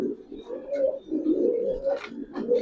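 Giribaz silver-winged pigeons in a loft coo in low, rolling, throaty phrases, several overlapping calls close by, with brief soft flutters and no speech.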